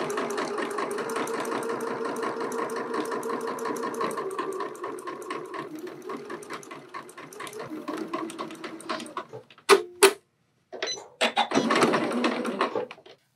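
A sewing machine stitches a seam on an all-in-one facing with a steady, close, fast whirring that slows and stops, followed by a few sharp clicks and a short final burst.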